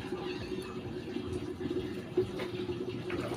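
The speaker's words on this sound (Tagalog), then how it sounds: "Hugasan natin yung motor natin." Water runs and splashes steadily at close range while washing a motorcycle, a continuous wet rush with small spattering bumps, no voices.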